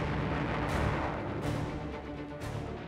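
Explosions in a reenactment of the Pearl Harbor attack on the battleships, a dense ongoing roar with heavy booming blasts landing one after another, loud and continuous, no talking.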